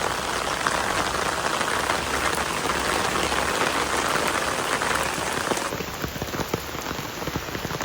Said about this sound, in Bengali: দেখুন বৃষ্টিতে ড্রেন পুরো ভরে গেছে